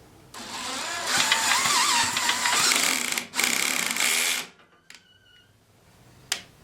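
An old hand tiller engine turns over and sputters into a loud, rough, buzzing run for about four seconds, then cuts out, followed by a few faint clicks and knocks.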